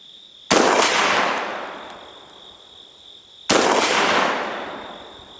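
Two loud, close shots from a Gforce GF25 shotgun with a 20-round drum, each a sharp blast followed by a long echoing decay outdoors, spaced about three seconds apart with no talk.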